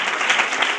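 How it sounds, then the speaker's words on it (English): A church congregation claps hands together in a steady, dense burst of applause, loud and close, with no talk over it. "Come on, clap your hand and bless the Lord on tonight."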